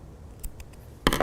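Scissors snip through acrylic yarn during amigurumi crochet work, a few faint soft ticks followed by a louder, close crunchy cut at the end, no speech.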